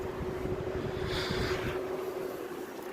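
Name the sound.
window air conditioner compressor starting on low cool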